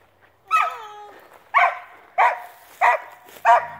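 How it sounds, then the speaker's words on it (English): A dog barking in a backyard near a trailer, five sharp, loud barks spaced about a second apart, the first stretching into a whiny yelp, with quiet gaps between. "There's that dog."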